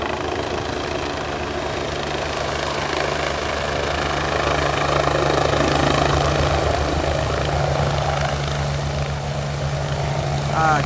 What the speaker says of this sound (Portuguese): É outro helicóptero esse. Esse é, parece que é helicóptero militar, não sei.